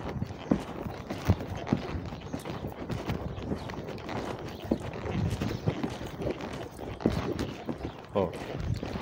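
A colt trotting under a rider during training, with rhythmic hoofbeats on dirt in an open arena under steady wind noise, while someone talks over them.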